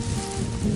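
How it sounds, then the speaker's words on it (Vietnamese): Rain falling steadily near a fishing spot beside flooded fields in Vietnam, a loud, close, continuous hiss like sizzling, with no talk. "cánh đồng nước lắm rồi mà sao mưa hoài chết luôn"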